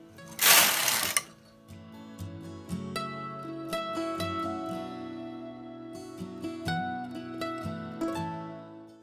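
A bulky knitting machine carriage sweeps across the needles while knitting a crescent shawl with short-row shaping, a loud rushing burst at the start followed by steady mechanical whirring and light clicks.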